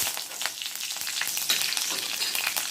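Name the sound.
mustard seeds, dried red chillies, onion and curry leaves frying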